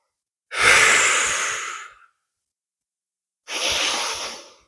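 Two long, deep breaths taken for kundalini energy flow, each a broad airy rush lasting over a second, the first longer and stronger, separated by a pause of silence, close and alone.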